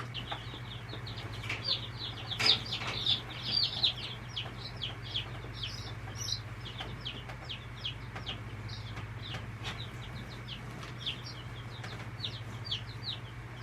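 Several chickens cluck and murmur softly, with a few louder squawks early on, over a steady low hum.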